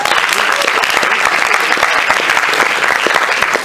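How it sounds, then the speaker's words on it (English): A room full of people at a speech-day event bursts into loud, dense applause, with many hands clapping continuously and close, holding steady from start to finish. "Give a round of applause to him"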